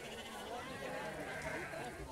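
A sheep bleats while being lifted by hand out in the open, a short wavering cry blended with people talking nearby.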